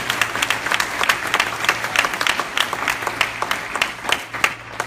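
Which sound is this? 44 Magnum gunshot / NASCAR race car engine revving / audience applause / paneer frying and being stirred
audience applause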